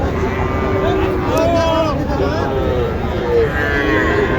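A native Bangladeshi cow moos a few times in a long, low drawn-out call amid steady noisy background chatter and bustle of a busy cattle market in Joypurhat.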